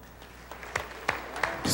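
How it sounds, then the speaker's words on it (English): Legislators on the Texas House floor applauding a group of visitors, a brief patter of clapping heard at a distance in a large chamber. "Stood up in the gallery and were applauded by all the Texans that were down on the floor"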